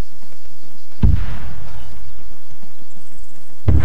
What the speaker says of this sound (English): Where are all those explosions?